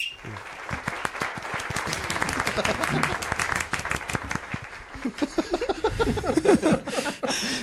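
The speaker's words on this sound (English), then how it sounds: "Silent golf applause." Steady light clapping from a crowd for several seconds, then the clapping thins as voices rise and people talk and call out over the last of it.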